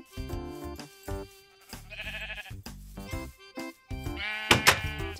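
Sheep in Minecraft let out several short, nasal bleats in separate bursts, interleaved with tonal game music and a few soft thunks.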